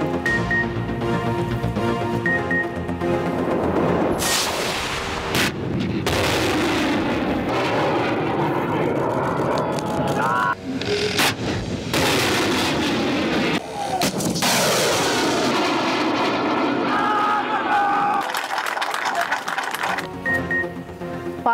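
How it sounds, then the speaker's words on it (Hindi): Pakistan Navy air defense units test-firing surface-to-air missiles, loud continuous roaring blasts and rushing launch noise with sharp cracks, a dense sustained barrage filling the whole stretch with no speech. "पाक बहरिया की एयर डिफेंस यूनिट्स का ज़मीन से फ़िज़ा में मार करने वाले मिसाइल्स की फायरिंग का कामयाब मुजाहिरा"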